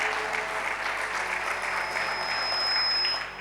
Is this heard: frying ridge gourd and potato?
no